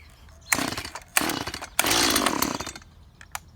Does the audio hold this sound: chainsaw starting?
yes